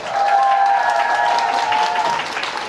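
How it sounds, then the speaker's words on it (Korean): Loud, dense audience applause greeting a guest speaker at a studio talk show, continuous clapping close and full for the whole stretch, with a faint musical tone under it and no talking. "우리 파이팅 팔코님을 큰 박수로 모시겠습니다"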